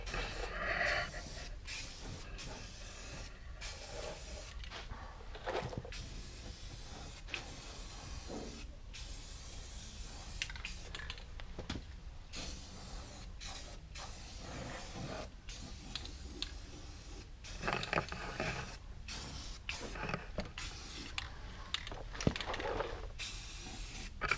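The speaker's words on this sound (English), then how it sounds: "I'm going to paint it all, just so that once I close it up, I don't have to worry about it rusting again." Aerosol spray paint hisses in repeated short bursts over a repaired Porsche 914 frame rail, each close spray separated by brief pauses over a quiet background.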